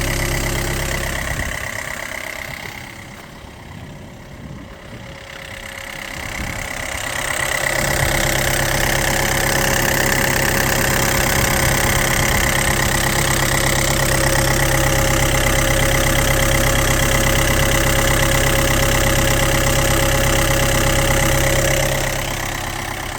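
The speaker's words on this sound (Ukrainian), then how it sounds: "Ось такий дизельний двигун" A Linde H35D-02 diesel forklift engine rumbles steadily at idle, loud and close, with a rough knocking texture after a brief quieter stretch at the start.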